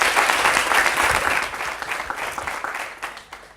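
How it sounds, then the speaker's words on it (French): Audience applause at a televised French quiz show, a dense, loud, steady wash of clapping that slowly thins toward the end. "M. Salon, on l'applaudit très fort"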